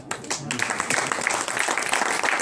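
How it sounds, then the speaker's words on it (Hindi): Audience applause at a talk, a dense continuous patter of many hands clapping with a voice briefly audible at the start. "पीछे वाली ताली बजा सकते हैं।"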